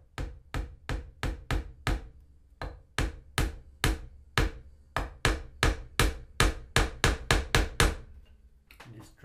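A locating pin is tapped into a wooden guitar neck blank with a steady series of sharp, close hammer taps, about twenty strikes in an even rhythm with one short pause, and no talk.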